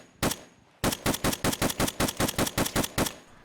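Springfield M1A rifle firing M80 ammunition in the video game Escape from Tarkov: one loud shot, a short pause, then a rapid, even string of about a dozen sharp shots, close and alone.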